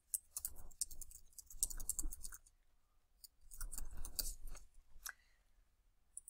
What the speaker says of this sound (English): So I'm going to go ahead and type in the name.